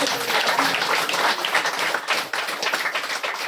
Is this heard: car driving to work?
no